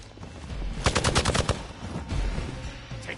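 Rapid burst of gunshots from the Marvel Midnight Suns video game, a fast string of sharp cracks lasting about a second, followed by quieter background game sound.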